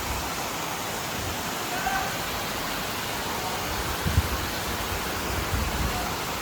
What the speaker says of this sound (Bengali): বৃষ্টি পড়ছে দেখো।